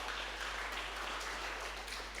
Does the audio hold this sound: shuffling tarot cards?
no